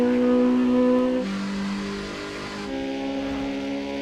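A car engine in a racing video game revs high and steady, then drops pitch at each gear shift, a loud continuous whine with clear stepped changes and no talk.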